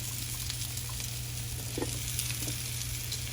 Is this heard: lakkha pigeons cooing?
no